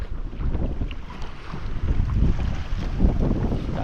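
Large waves rock a boat on a river under steady wind, a continuous rumbling wash of water and gusting wind noise buffeting the microphone, with no pauses.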